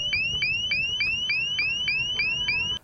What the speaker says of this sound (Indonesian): Kolonel Murphy pun melakukan pengetesan pada alarm tersebut